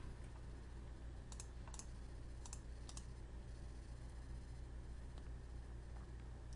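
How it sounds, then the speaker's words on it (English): Scattered computer keyboard key presses, a few quick clicks in small bursts over a steady background hum, fairly quiet and without talk. "We can also push Control J on the keyboard to do this."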